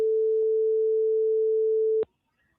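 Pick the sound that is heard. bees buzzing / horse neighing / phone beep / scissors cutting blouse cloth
phone beep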